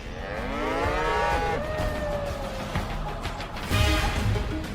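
A bull lets out a long, drawn-out moo with a falling, wavering pitch, loud and close, followed by a shorter lowing call over a steady background hum.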